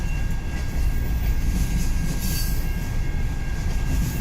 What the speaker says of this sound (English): That's a really long train.